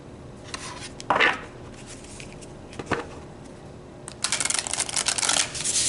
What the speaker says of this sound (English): Sloppy shuffling again.